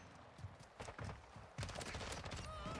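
Gunfire in Call of Duty: Modern Warfare II during a 1v1 match: scattered single shots at first, then a dense, loud burst of rapid fire and impacts from about halfway on, with faint game effects underneath.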